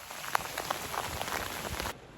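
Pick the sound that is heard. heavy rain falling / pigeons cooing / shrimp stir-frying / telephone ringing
heavy rain falling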